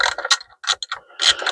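A ratchet wrench loosens rocker cover bolts on a BMW N13 engine in a 116i F20/F21, with short bursts of close metallic clicking separated by brief pauses.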